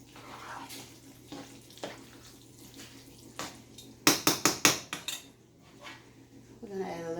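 A thick baked macaroni and cheese gets a good stir in a pan, with scattered wet scraping at first, then a burst of sharp metallic clinks from the utensil against the pot, up close.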